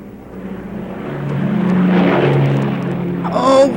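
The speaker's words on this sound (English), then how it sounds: "I'll rev up the engines." Engines rev up steadily, a droning hum that rises and swells to a peak midway before easing off, ending with a brief sharper whine.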